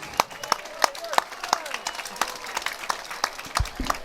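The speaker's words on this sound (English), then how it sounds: "Let's give Frank Baxter a round of applause" A crowd at a varsity high school football game breaks into scattered hand clapping, sharp irregular claps at moderate distance, mixed with someone speaking over the applause.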